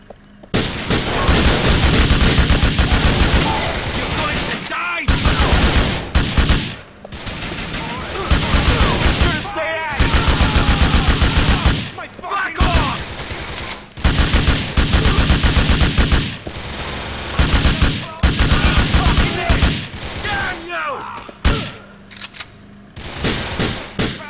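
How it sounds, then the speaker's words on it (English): Sustained automatic gunfire from a Grand Theft Auto IV firefight, loud bursts of rapid shots and volleys filling most of the clip, broken by a few short pauses. "Give me some covering fire, kid!"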